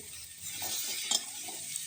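Onions fry in a pan while being stirred, a soft, steady sizzle with faint scraping strokes, quiet and close.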